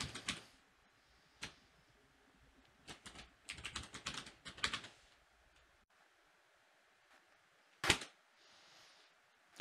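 A username is typed on a computer keyboard in close, sharp key clicks. They come in irregular short bursts with pauses between them, ending with one firmer keystroke after a gap.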